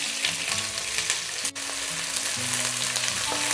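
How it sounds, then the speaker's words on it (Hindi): Roughly chopped onions frying in hot oil in a kadai while being stirred give a constant, loud crackling sizzle, with a single sharp click partway through and a faint background hum. "जब ऑयल गर्म हो जाए तो उसमें डालेंगे 4 मीडियम साइज़ के प्याज"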